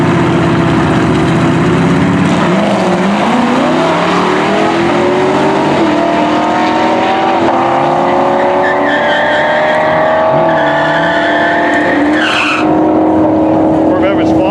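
Corvette drag racing down a quarter-mile strip against a Nova, loud engines roaring and pulling up through gears with rising, sweeping tones, tire chirps and track noise, loud throughout.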